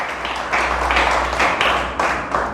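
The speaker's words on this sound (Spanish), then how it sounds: "Oiga, pero denle fuerte el aplauso a Dios, por favor." A church congregation applauds during a pastor's sermon, dense continuous clapping from many hands at close range, rising and falling in waves.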